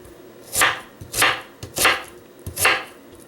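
Onion is roughly chopped with a knife for a roast, four loud, close crunching cuts spaced about half a second apart, each with a soft board knock, and no voice.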